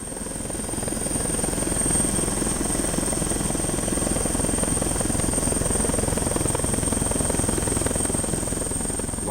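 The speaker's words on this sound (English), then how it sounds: "While the helicopter patrols in the sky" An Italian Carabinieri patrol helicopter thumps steadily overhead, its rapid rotor chop fading in at first and then holding loud and constant with no one talking.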